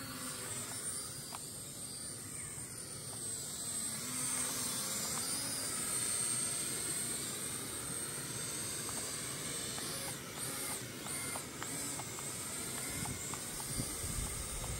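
A small K3 E99 toy drone flies outdoors in wind, its thin high-pitched propeller whine steady and fairly distant, with broadband wind hiss throughout and no talking.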